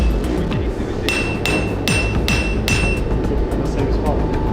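A hammer strikes a Damascus steel chef's knife blade repeatedly on one spot, giving a series of sharp ringing metallic clanks over steady workshop noise.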